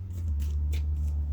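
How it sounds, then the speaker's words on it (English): Tarot cards being shuffled by hand in a few quick riffling bursts, close and fairly soft, over a steady low hum with no talking. "let's give a couple more good shuffles again"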